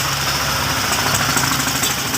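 A truck engine runs on a road, a steady mid-pitched drone with a faint knocking vibration, fairly close and continuous, with no voices.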